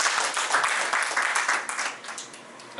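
Audience applause for youngsters during a talk on generative AI, a short, bright patter of many hands clapping that fades gradually toward the end.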